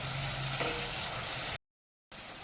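Soaked ground spices sautéing in hot oil for Bengali kosha mangsho, a steady close sizzle that cuts out briefly to silence before resuming.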